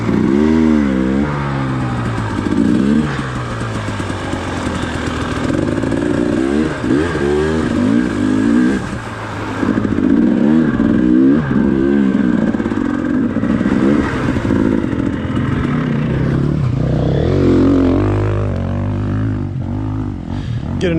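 Dirt bikes ridden through snow at Big Bear, engines revving and rising and falling in pitch as the bikes accelerate close by, loud and continuous with no talk.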